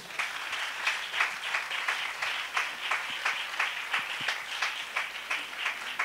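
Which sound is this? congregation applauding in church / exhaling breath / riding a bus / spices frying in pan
congregation applauding in church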